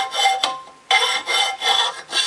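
Fine sandpaper rubbed by hand over a steel cleaver blade during knife making, giving repeated close, raspy scraping strokes with short pauses between them.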